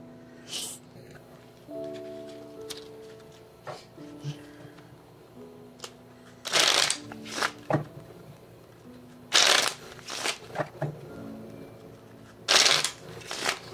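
Playing cards shuffled for a card reading, several brisk riffling bursts spread through the stretch, close by, with a quieter stretch of low tones between them.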